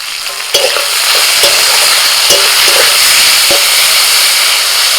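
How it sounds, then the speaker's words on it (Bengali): Steady loud sizzling of potatoes frying in oil in a wok, with a few sharp scraping clinks of a spatula stirring the pan; no voices. "কড়াইতে আবারও তেল দিয়ে আলুটা দিয়ে দিলাম"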